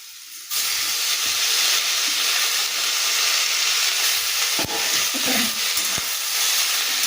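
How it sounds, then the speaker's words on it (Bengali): Helencha greens are stirred into fried eggplant and potato in a hot pan, giving a steady loud sizzle and hiss with a few scraping stirs of the spatula. "তো শাকটা দেওয়ার পর খানিক্ষণ একটু নাড়াচাড়া করব"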